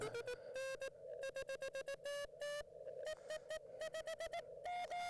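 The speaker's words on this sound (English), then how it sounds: "I actually have Morse code coming through." Morse code tones from an amateur radio receiver during a portable park activation, a steady pitched beep keyed in rapid short and long bursts, clear and fairly quiet with a faint hiss beneath.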